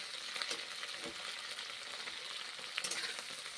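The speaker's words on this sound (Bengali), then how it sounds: "ঢেঁড়সগুলো একটু ভেজে নেব" Okra frying in a pan gives a faint, continuous sizzle with a few light scrapes from stirring and no speech.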